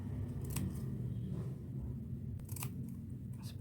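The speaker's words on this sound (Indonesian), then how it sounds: "kita gunting yang bagian bawah." Scissors make several crisp snips through a paper sewing pattern, close and distinct over a steady low background hum, with no talking.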